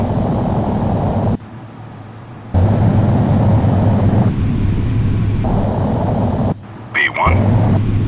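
A simulated airliner rolls down the runway in Flight Simulator X, a loud steady engine roar and rushing noise that cuts in and out abruptly, with a brief radio-like voice burst near the end.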